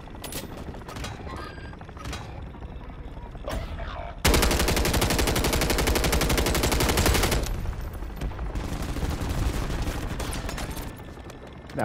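Scattered shots and mechanical clicks, then a dense burst of rapid automatic gunfire for a few seconds, followed by continuing loud game combat noise in Call of Duty: Warzone.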